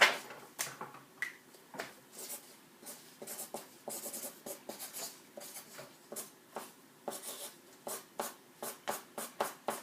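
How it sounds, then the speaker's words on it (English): Notes written by hand with a pen on paper, a close run of short scratchy strokes and taps in a quick, uneven rhythm, some sharper than others, with no talking. "I want to write them down real quick."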